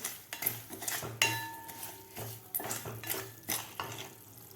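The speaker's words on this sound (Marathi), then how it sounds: "दोन मिनिट आपल्याला हे मिक्सरमधून काढलेला तांदूळ व्यवस्थित भाजून घ्यायचा आहे तुपामध्ये" Ground rice roasts in ghee in a pan as a metal spoon stirs and scrapes in repeated clanking strokes over a low sizzle, close and up front.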